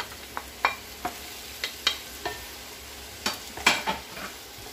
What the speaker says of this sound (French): Donc après 3 minutes, je vais rajouter les fruits de mer.